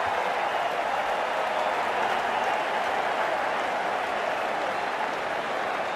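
Cricket crowd at a World Cup match between South Africa and Australia applauding a catch: broad, steady stadium clapping and cheering fills the whole stretch without letting up.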